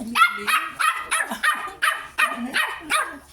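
A dog barks repeatedly in quick, high yips, about eight sharp barks in a steady rhythm, close and loud.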